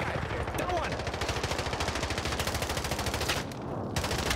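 Automatic gunfire in the video game Warzone, a dense, steady rapid-fire rattle of shots running through almost the whole stretch, loud and continuous with only a brief break near the end.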